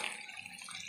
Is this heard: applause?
no